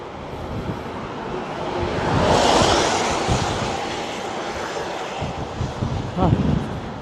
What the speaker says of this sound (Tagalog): malakas nga lang yung hangin.